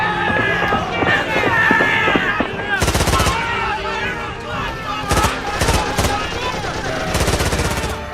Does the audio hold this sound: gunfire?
yes